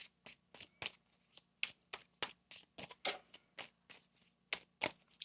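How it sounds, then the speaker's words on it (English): A tarot deck shuffled by hand in a quiet room, a series of crisp, close riffling snaps and taps in an uneven rhythm, each burst short and sharp with brief gaps. "One more shuffle."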